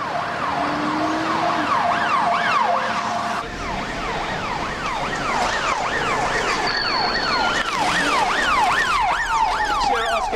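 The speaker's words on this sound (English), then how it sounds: "Ambulance is right behind us." An ambulance siren wails loudly and steadily, its rising and falling tones sweeping continuously close by, with road and engine noise beneath during a police emergency response.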